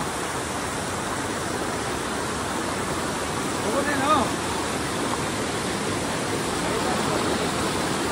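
Rushing water at a hidden waterfall stream near Belagavi roars steadily and loudly throughout, a dense unbroken wash of flowing water.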